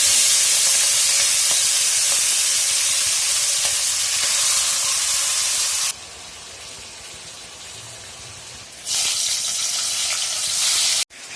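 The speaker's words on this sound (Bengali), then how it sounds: "এদিকে বাবা চিকেন আর ইলিশ মাছের মাথাটা ভাজছে" Chicken and a hilsa fish head frying in hot oil, giving a loud, steady sizzle and hiss that drops abruptly partway through, then returns before cutting off.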